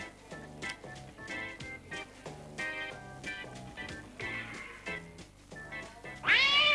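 A cat meows over and over from a video playing back, with a rhythmic run of calls and a louder, drawn-out meow at the very end.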